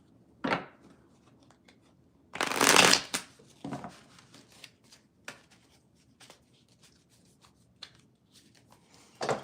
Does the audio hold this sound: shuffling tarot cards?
yes